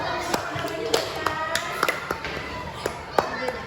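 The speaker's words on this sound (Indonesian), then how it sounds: "iya, tepuk tangan dulu." A class of fourth-grade students clapping hands during a science lesson, a series of scattered sharp claps with a teacher's voice talking underneath.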